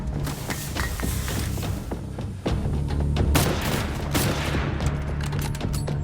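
A chaotic shootout erupts nearby with dense, rapid gunfire, overlapping automatic bursts and single cracks ringing out continuously, punctuated by heavy booms over a low rumbling background.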